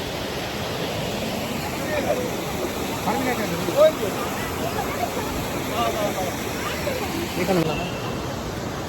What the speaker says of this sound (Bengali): পাহাড় থেকে জল আসছে, শব্দটা তো খুব সুন্দর লাগছে দেখতে